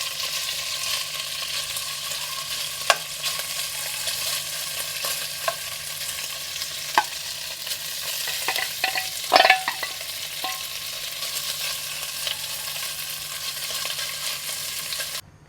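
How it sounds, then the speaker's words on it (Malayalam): Marinated chicken frying in a pan, a steady sizzle running throughout with occasional sharp clinks and scrapes of a spoon stirring, loudest around the middle. "ഇനി അടുത്തത് നമ്മൾ നേരത്തെ പുരട്ടി വെച്ചിരുന്ന, മാരിനേറ്റ് ചെയ്ത് വെച്ചിരുന്ന ചിക്കനാണ് ഫ്രൈ ചെയ്തെടുക്കേണ്ടത്."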